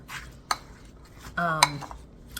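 Flour and melted butter for a sweet potato casserole topping are mixed in a bowl. A couple of sharp utensil clinks against the bowl stand out over a faint background, close by.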